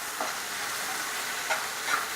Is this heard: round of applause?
no